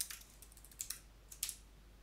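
Soft, faint computer keyboard typing as a password is entered during Ubuntu Server administration, a few scattered light keystroke clicks over quiet room tone, no talking.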